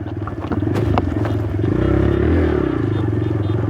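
A motorcycle ridden off-road on rough ground with no proper road, its engine chugging in a steady low throb that swells in the middle, with clattering and scraping bumps from the terrain, close and fairly loud.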